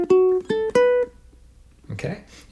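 Three plucked ukulele notes ring out close and clear, the closing phrase of a blues lick's third measure, followed by a short pause and then brief soft talking.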